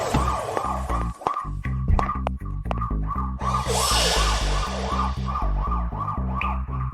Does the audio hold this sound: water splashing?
no